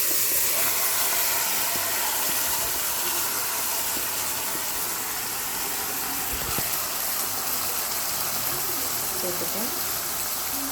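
Chicken pieces going into hot oil tempered with curry leaves, giving a steady, loud broadband sizzle and hiss that holds throughout, like frying in a pan, with no talk over it.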